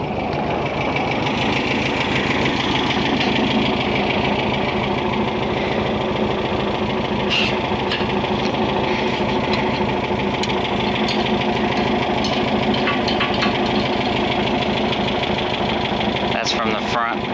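A stroker engine with a bone-dry fuel tank keeps running, a continuous close, loud idle with a rapid ticking, knocking pulse that holds evenly for the whole stretch.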